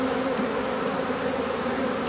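A dense colony of honey bees drones steadily at an open hive in grass as a beekeeper works the frames. The buzzing is close, loud and continuous, with no talking.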